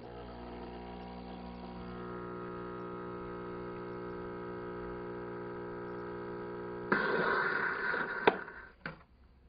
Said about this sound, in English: The air is injected in the milk. It creates a beautiful froth.